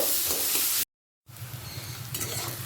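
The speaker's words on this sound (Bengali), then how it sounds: "পেঁয়াজটা হালকা লাল করে ভাজা হয়ে গেছে" Finely chopped onions sizzling in hot oil in a pan as they are stirred, a continuous close frying hiss that cuts out briefly, then returns with scraping stir strokes.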